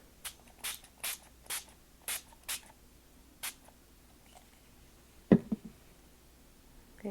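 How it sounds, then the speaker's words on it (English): Several short hissing bursts of spray paint sprayed onto card in quick succession, then a few scattered clicks and a soft thump, fairly close. "now I'm taking Tangerine Dream and spraying over top of it"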